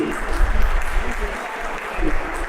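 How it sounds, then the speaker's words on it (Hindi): An audience at a Sarva Seva Sangh conference session applauds with a steady, dense clatter of many hands. The clapping carries on throughout and rises in slight swells. "तालियां कमजोर है भी,"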